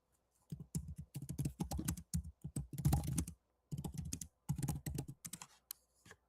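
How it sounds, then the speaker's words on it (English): Rapid typing on a computer keyboard, with bursts of close, crisp key clicks separated by short pauses and a few single taps near the end, and no talking. "let me type in, for example, let me do my company"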